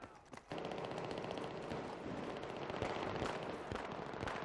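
Sustained automatic gunfire from the video game Battlefield 3 as a weapon empties most of a magazine, a dense rattling stream of shots that runs nearly unbroken after a brief opening pause.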